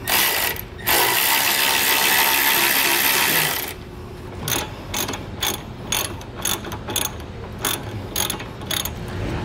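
A ratchet tightens trailer hitch bolts on a 2018 Volkswagen Tiguan, first as a loud continuous whir, then as a rapid series of close clicks. No one speaks.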